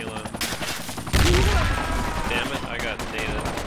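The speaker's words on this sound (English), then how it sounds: "I hear gunfire to our north." Gunfire in the military shooter game Project Reality: sustained volleys of rifle and automatic fire crackle at mid distance, swelling into a heavier, louder burst partway through and continuing steadily to the end.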